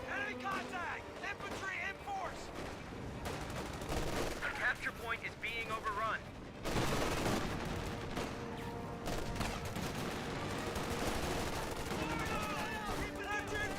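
Dense gunfire and explosions from a Company of Heroes 2 battle with grenadiers under fire, a continuous loud barrage of rattling shots with talk over it.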